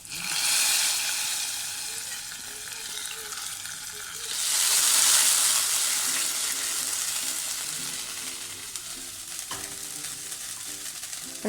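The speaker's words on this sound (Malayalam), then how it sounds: "ഇനി താളിച്ച് ഒഴിച്ചത് നമുക്കിതിലോട്ട് ചേർത്ത് കൊടുക്കാം കേട്ടോ" Hot coconut oil tempering hits a squid curry in Kerala style, giving a loud broadband sizzle that flares up, fades, then surges again midway before settling into a steady frying hiss.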